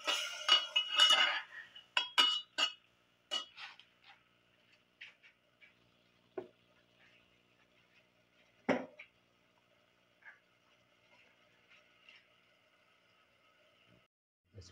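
A spoon mixes ingredients in a pot for a pepper garlic kingfish stew: a quick burst of clinking and scraping at first, then slower, sparse taps and clinks against the pot that grow quieter and farther apart.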